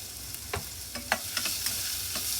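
Garlic and ginger sauté with onion in a pan for Filipino chicken tinola, sounding as a quiet, steady sizzle broken by several sharp scrapes and taps of a spoon stirring.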